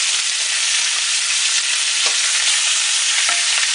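Pork chops still wet from washing sizzle and crackle loudly in a hot pan on high heat, a steady dense frying hiss with small pops throughout and no voices.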